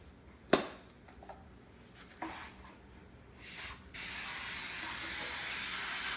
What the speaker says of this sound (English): you have to grease the pan